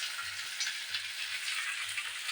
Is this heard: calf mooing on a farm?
no